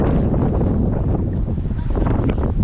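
Strong wind at a riverside campsite on the Arkansas River buffets the microphone in a loud, continuous rumbling roar with no pauses.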